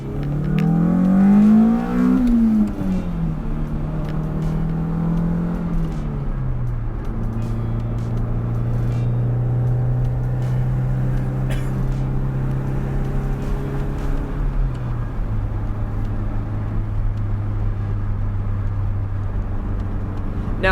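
A Toyota SW20 MR2 with a Beams engine swap drones loudly from its exhaust while driving, revving up early and then settling into steady cruising tones that shift down as the gears change.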